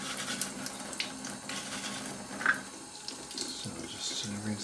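Tap water runs steadily over a model locomotive shell, an HO-scale Gilbert ALCO DL600, while it is rinsed and scrubbed at a sink, with a soft continuous splash and a few brief louder bursts.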